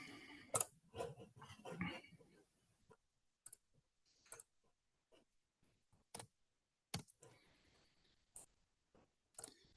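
A few scattered keyboard clicks and taps sound faint and sparse, separated by long silent gaps, after a brief cluster of quick keystrokes at the start.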